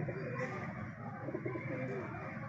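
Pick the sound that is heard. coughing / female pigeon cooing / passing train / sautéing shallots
female pigeon cooing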